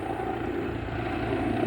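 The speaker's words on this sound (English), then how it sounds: "That's a rescue helicopter." A rescue helicopter flying overhead in Sabah makes a continuous, fairly loud rotor and engine drone that holds steady without a break.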